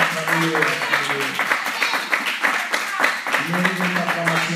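Church congregation clapping and applauding in praise, a steady dense patter of many hands under continuous singing or chanting voices throughout.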